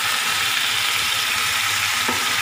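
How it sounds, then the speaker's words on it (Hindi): Minced keema sizzles in a hot pan with whole spices, a dense continuous hiss and crackle, close and fairly loud, with a faint stirring scrape near the end and no voices. "अब इसमें मैं डाल रही हूँ कीमा"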